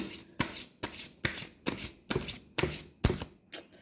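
A deck of tarot cards is riffled and shuffled repeatedly, with about eight crisp, close bursts at a steady rhythm and no voice.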